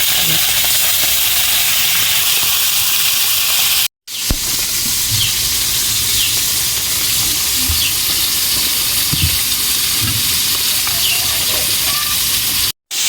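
Fish fries in hot oil in a kadai, making a loud, continuous sizzle with crackling spatters that lasts about thirteen seconds, broken only by two brief cuts to silence.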